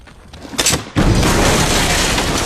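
An explosion in a war film: after a few quieter thuds, a sudden heavy boom bursts out and rolls on as a dense, loud rumble with debris-like noise.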